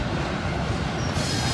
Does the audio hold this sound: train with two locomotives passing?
yes